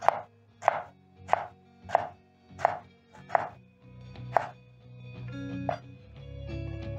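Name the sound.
knife slicing tomatoes into thin strips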